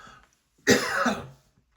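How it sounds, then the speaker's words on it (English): A single close, fairly loud cough, a short harsh burst lasting about half a second, followed by quiet. "I'm starting to cough."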